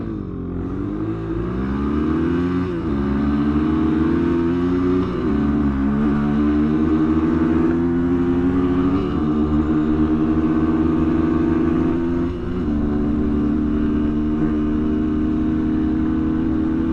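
Kayo dirt bike engine, an air-cooled or liquid-cooled 230–250 cc model, running steadily and close by with a loud, continuous mid-pitched drone that rises and falls slightly in pitch as the throttle varies, with no talking.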